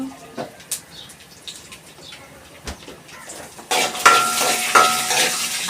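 Green chillies hit hot oil in a pan at home, and after a few light clinks and taps a loud, crackling sizzle bursts in partway through and keeps spitting up close.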